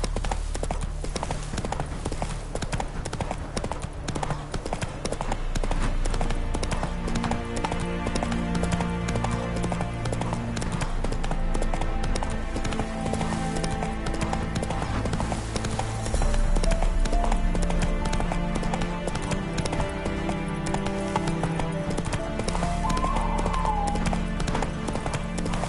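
Roach the horse gallops in The Witcher 3, a steady, loud clip-clop of hooves running throughout over a constant bed of game music and ambience, with no talking.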